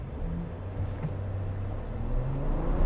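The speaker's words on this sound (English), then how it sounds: "I'm gonna do a slight acceleration run." A 2020 Ram 1500 EcoDiesel half-ton truck pulls away from brake torque, its engine rising in a steady low drone that swells toward the end, heard from inside the cab with no speech.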